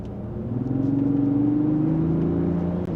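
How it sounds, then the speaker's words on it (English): Engine and exhaust of a Lexus GX 550 in Sport Plus mode grumble steadily from inside the cabin, a low rumbling drone that swells gently as the SUV accelerates, with no voices. "this definitely has a little bit more of a grumble to it. I like that in Sport Plus."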